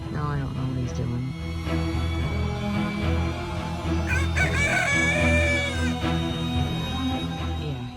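A free-range rooster standing on top of a table crows loud and close, a long drawn-out call midway through, over steady farmyard clucking and background noise.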